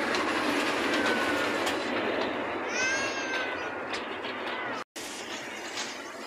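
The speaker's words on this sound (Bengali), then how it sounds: "ট্রেন চলতেছে দেখতেই পাচ্ছেন।" A park ride train at Patiya Nahar Park rolls past with a close, continuous rumble and clickety-clack. A thin metallic wheel squeal rises midway through.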